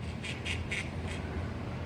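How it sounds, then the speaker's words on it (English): Ducks quack in a quick series of four nasal calls, moderately close, over a faint low outdoor rumble. "incoming ducks."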